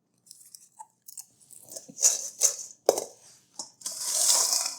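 Air-popped popcorn crunched between the teeth, a string of close, crisp bites and chews with brief pauses, growing into a denser crunch near the end.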